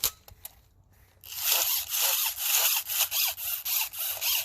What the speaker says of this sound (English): And when you wind these